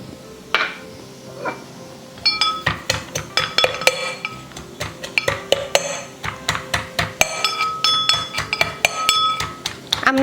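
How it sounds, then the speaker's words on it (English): Garlic being crushed for a chickpea curry, a run of sharp, clinking knocks that repeat in an uneven rhythm close up, with no talking. "Now we're going to crush"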